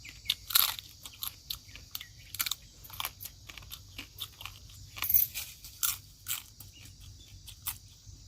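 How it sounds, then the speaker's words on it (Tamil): Close, sharp crunches and bites into fried crab, with irregular bursts of cracking shell and wet chewing in quick succession and short pauses between them, no talking. "அந்த ரோட்டு கேட்கும் போல கடிக்கிற கடி."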